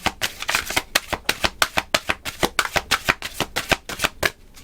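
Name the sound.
tarot cards being shuffled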